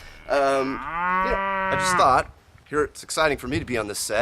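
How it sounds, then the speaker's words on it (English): Cows on a farm low out in a long, drawn-out moo behind nearby talk, followed by a person speaking up close over the background. "You might hear some chickens and ducks and cows in the background"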